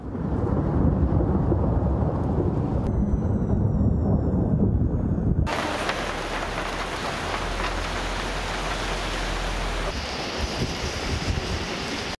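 Thunder with heavy rain during a cold-air hailstorm in the capital: a steady loud downpour with deep rumbling underneath, continuous throughout with a hard cut partway into a different outdoor rain recording.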